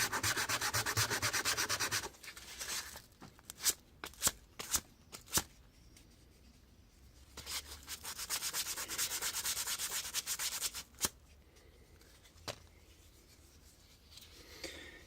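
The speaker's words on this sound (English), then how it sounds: "You can tell when you're sanding if you've done roughly enough." A knife handle is hand-sanded with 150 grit sandpaper, giving close, raspy rubbing strokes in bursts separated by pauses and a few sharp taps, with no talking.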